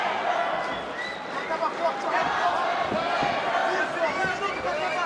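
New York fight crowd at a UFC bout between Calvin Kattar and Renato Moicano, a sustained roar of chanting and cheering that swells and dips, with a commentator's voice running over it.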